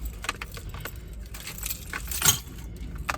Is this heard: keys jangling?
yes